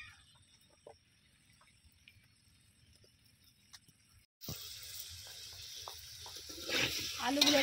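Potatoes tipped into hot oil in a pan for khichuri, a sudden burst of loud sizzling after a quiet stretch, then steady crackling frying that swells near the end.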